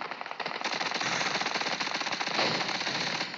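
An MP5K submachine gun fires in PUBG Mobile, a sustained rapid automatic burst of sharp, close shots lasting about three seconds with no pauses.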